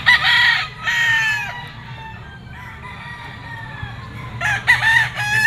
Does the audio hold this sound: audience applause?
no